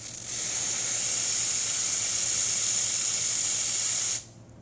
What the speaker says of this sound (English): And here's the steamer.